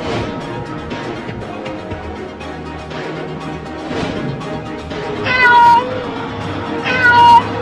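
Two loud, drawn-out cartoon cat meows ring out near the end over a busy background of music and noise.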